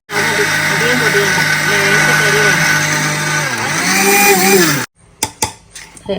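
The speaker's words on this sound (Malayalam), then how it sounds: "അല്ലാതെ മിക്സി പോകട്ടെ" A mixer grinder runs steadily for almost five seconds, grinding rice with drumstick leaves and a little salt for puttu, with a voice over it; the motor then cuts off, followed by a few sharp clinks and knocks.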